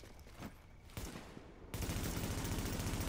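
Automatic gunfire in Tom Clancy's The Division: a few scattered shots at first, then a sustained, loud burst of rapid fire that runs to the end.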